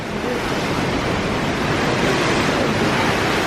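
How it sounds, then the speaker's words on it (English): Loud ocean surf breaking steadily on a beach at Labadee, Haiti, a continuous roaring wash of waves with some wind noise over the microphone and no talk. "The waves are loud."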